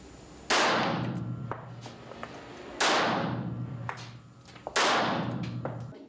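A female police officer fires a pistol on a shooting range: three loud, sharp shots a couple of seconds apart, each followed by a long ringing echo that fades slowly.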